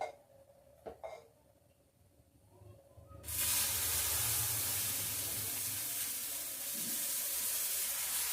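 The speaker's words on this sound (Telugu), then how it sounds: "దోశలు వేస్తున్నాను అనమాట" Dosa batter from soaked black gram and ration rice hits a hot tawa and breaks into a loud, steady broadband sizzle after a few faint clinks, continuing evenly to the end with no voices.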